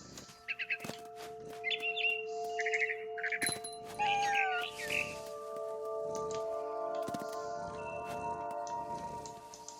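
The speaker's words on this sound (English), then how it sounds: "Then I heard chirping outside my window. It was a barn swallow going back to her nest." In the video game What Remains of Edith Finch, a barn swallow chirps in bright repeated bursts over a sustained tonal music backdrop, interspersed with soft thuds and short effects.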